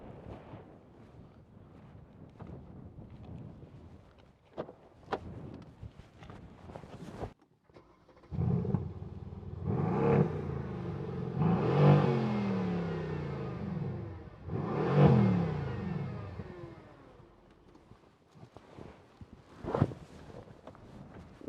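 A 2016 Mercedes-AMG C63 biturbo V8 sports saloon revs hard in several loud bursts, after scattered lighter blips and wind buffeting on the microphone, then drops back to a burbling idle before a final short blip.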